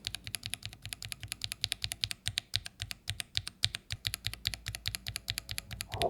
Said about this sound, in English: Bottoming out also refers to the sound profile of keycaps hitting the top of the switch or the plate